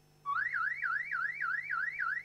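A security-company advertisement alarm: a loud, steady warbling electronic whoop that cycles rapidly up and down for about two seconds with no voices.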